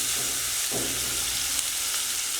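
Chopped onion hits hot oil for an egg bhuna, making a close, steady frying hiss with a brief clatter as the pieces go in, and no talk.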